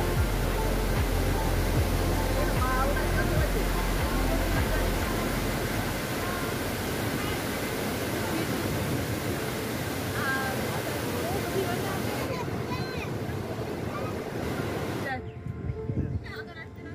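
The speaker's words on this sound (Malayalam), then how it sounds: "നല്ല മഴയ കാരണം നല്ല വെള്ളമുണ്ട് ഡാം തുറന്നിട്ട്." Water rushes heavily from an opened dam swollen by heavy rain on the forest road from Athirappilly to Valparai, a loud steady broadband roar filling the whole clip that drops sharply near the end.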